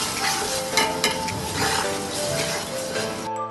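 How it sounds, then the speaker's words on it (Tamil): An onion, tomato and shallot paste sautés in oil while being stirred for a chicken biryani, making a steady close sizzle with soft scraping and stirring through the whole stretch, no talking. "இப்போ நல்லா வதங்கி அந்த எண்ணெய் பிரிஞ்சு வருது பாருங்கள்."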